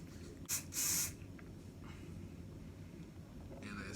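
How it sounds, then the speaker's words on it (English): Shoe cleaner sprayed onto sneakers in two short hissing bursts, a quick puff then a longer spray, close and clear over a quiet room. "I'm gonna spray it on these shoes"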